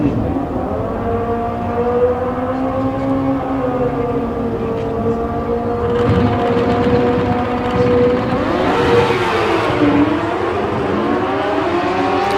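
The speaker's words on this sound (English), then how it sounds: "On the left-hand lane, we have a 1999 Suzuki GSX-R. It would be the Hayabusa." A 1999 Suzuki GSX-R Hayabusa motorcycle launches at a drag race, its engine wailing in a loud sustained whine that climbs and shifts pitch through the gears, with crowd and track noise mixed in.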